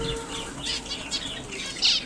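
Exotic finches flap their wings as they fly in to birdseed, a series of soft, quick fluttering bursts up close, with a slightly louder flurry at the end and no talking.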